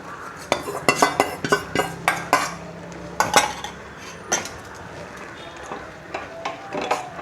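A ladle adds cooked toor dal, pressure-cooked, to broad beans kootu in a pan. Close, rhythmic metal clinks and scrapes of ladle on vessel come in a quick run, then sparser knocks over a faint bubbling.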